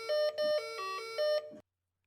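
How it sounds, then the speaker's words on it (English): A house doorbell rings several times in quick succession, its bright electronic ding-dong chimes clear and close before cutting off into silence. "I rang the doorbell 3 times."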